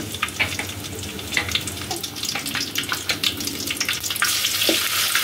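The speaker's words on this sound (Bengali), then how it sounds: "একটু ভেজে নিব।" Bay leaf, cinnamon, green and black cardamom frying in soybean oil in a pot, a steady close crackling sizzle with scattered sharp pops and light stirring clinks throughout.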